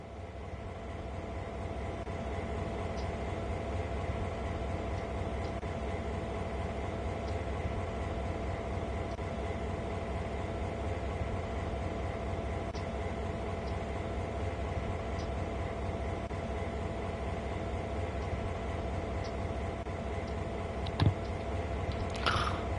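GP39-2 diesel locomotive in Train Sim World 4, idling with a constant low engine drone and rumble that holds steady throughout, with faint clicks on top and a small knock near the end.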